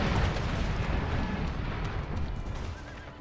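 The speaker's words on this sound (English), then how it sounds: "I want the artillery to focus in on the woods." Artillery fires in an American Civil War strategy game, a continuous heavy rumble of distant cannon blasts blending into one roaring wall of sound.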